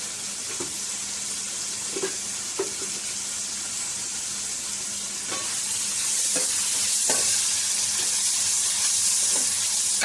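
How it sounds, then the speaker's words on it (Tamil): Tomatoes with a little salt fry in oil for chicken sukka, a continuous sizzle that grows louder partway through, dotted with intermittent spoon clicks and scrapes against the pan. "கொஞ்சம் உப்பு போட்டு எண்ணெயில் போட்டு ஃப்ரை பண்ணிவிடுங்க"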